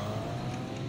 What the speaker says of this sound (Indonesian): mobil monster dengan roda yang sangat besar. Wow, mobil monster yang bisa berjalan sendiri